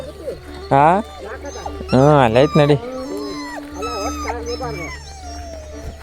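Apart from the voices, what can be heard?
dog whimpering and barking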